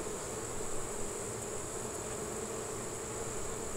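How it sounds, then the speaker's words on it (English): Honey bees buzz in a steady, dense drone from an opened beehive infested with hive beetles, close and continuous with no talking. "This hive is buzzing now, though"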